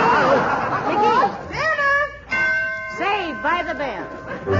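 A ringing bell sound effect in a 1943 radio comedy broadcast, its sustained tones sounding over lively voices and laughter.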